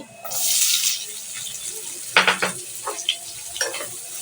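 Sliced onions drop into a hot frying pan beside browned potatoes for a chicken liver dish, giving a loud burst of sizzling followed by a run of scraping and clattering stirs.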